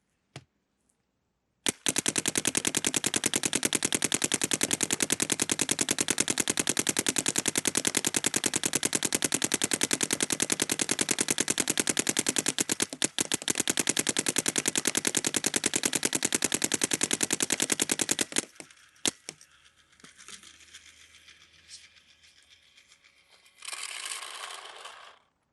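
Planet Eclipse CS3 paintball gun, production model, firing a long continuous rapid string of shots in an efficiency test, loud and close, then stopping abruptly, followed by quieter handling and air noises.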